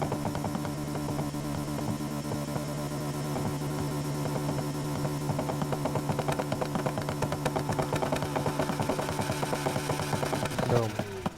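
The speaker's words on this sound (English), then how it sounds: "I guess that's the sound of fuel, extra fuel coming through the engine in combustion." Car engine in Need for Speed Heat, a steady loud mechanical drone with rhythmic pulsing and dense crackling texture, rising slightly toward the end before a brief burst and cutoff, with no talk over it.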